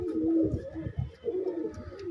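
Kept pigeons, some recovering from eye trouble, coo close by in low, throaty rolling calls, two swelling phrases with no talk over them.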